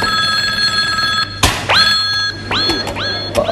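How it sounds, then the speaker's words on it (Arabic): A telephone bell rings loudly and close in a stage comedy play, sounding in repeated metallic bursts broken by a heavy thud. "التلفون قام يفاقي."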